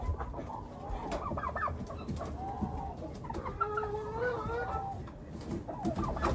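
Turkeys on a farm call out in a string of gobbling, warbling clucks, fairly close, over a low background rumble.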